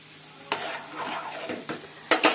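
Mung dal frying in a pan, a steady close sizzle broken by sharp scrapes and clinks of a spoon stirring against the metal, with a burst of quick knocks near the end.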